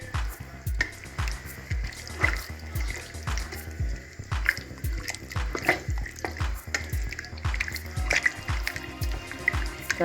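A spoon stirs yogurt briskly into kachnar curry in a pot, giving rapid, rhythmic wet scraping and sloshing strokes close up, steady throughout with no talk.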